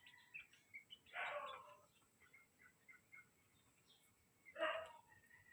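Pet chicks chirping faintly nearby, two louder bursts of cheeping among scattered soft peeps over a low background hiss.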